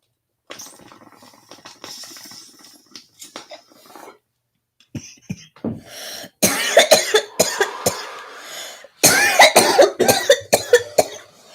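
A person coughs repeatedly in loud, close bursts, clustered into two harsh fits after quieter scratchy rustling at the start.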